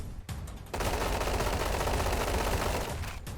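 Rapid automatic gunfire in the Roblox shooting game Combat Arena, a dense, loud, continuous burst of shots that starts after a brief pause and runs nearly the whole time.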